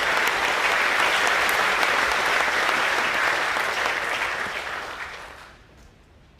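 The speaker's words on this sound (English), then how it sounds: "Can we please give our vocational boys a round of applause as they" A school audience at an annual academic awards presentation evening gives loud, sustained applause that holds steady, then tapers off and dies away near the end.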